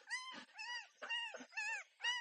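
Dogs on a farm during village Holi celebrations whimper and whine in a run of five high, wavering cries with short gaps, close and fairly loud, with no talk over them.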